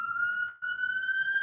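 A police siren wails steadily from outside, a loud sustained tone with a brief dip midway, carrying on without any talk over it.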